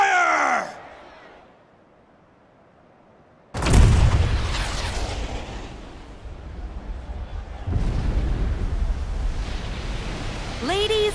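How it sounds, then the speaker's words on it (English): A blast from the famous Junon cannon in the video game Final Fantasy VII Rebirth erupts suddenly as a loud, deep boom, then rolls on as a long rumbling roar with a second surge. Brief game voices sound at the start and end. "with a single blast of Junon's famous cannon, Rufus Shinra has announced his arrival."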